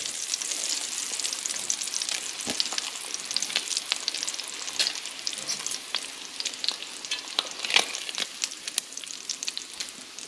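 Bacon sizzling and crackling in a hot pan as the strips are pulled off, a dense continuous frying hiss dotted with sharp pops and spatters, close and fairly loud with no talking.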